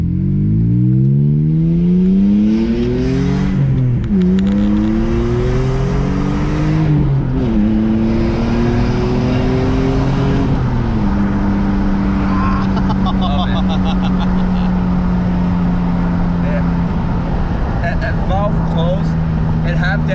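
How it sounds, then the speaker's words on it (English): An E46 M3 engine fitted in a one-of-one 2001 BMW M3 Touring wagon revs loudly and close, its pitch climbing and falling in several sweeps before settling into a steady high drone, with voices heard faintly alongside. "Wagon should not be making those noises."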